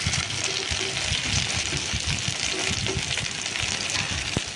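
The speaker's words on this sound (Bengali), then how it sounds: "এরম করে সব চিকেনের টুকরোগুলোকেই আমি ভালো করে ভেজে নেব।" Chicken pakora pieces coated in cornflour batter bubble and crackle in hot oil, a steady close sizzle with scattered pops and a faint clink near the end.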